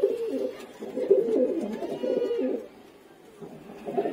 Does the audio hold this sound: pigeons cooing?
yes